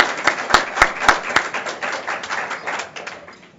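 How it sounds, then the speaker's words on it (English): A small audience at a broadband label announcement gives a short round of applause, a burst of brisk clapping near the start that thins out and fades over a few seconds. "a round of applause"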